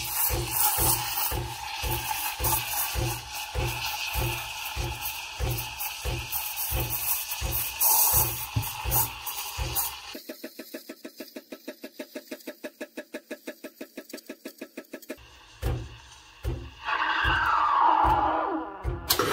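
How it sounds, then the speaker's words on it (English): Thermal block milk steamer thumping while steaming, a regular close pulsing beat for about ten seconds, then a faster ticking rhythm, ending with a hissing rush of steam. "It uses a thermal block, so the thumping sound you hear comes from it."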